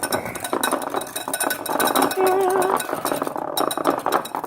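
A metal spoon stirs a sugary cinnamon mix in a bowl, giving rapid, repeated clinks and scrapes up close, with a short ringing tone in the middle.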